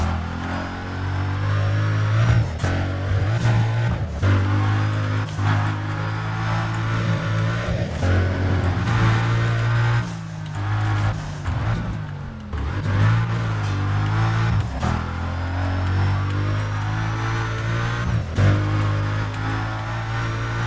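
A Mercedes races through a circuit lap in Need for Speed: Undercover, its engine holding a loud, steady drone with rising and falling revs as it accelerates and shifts, continuous and close throughout with no talk.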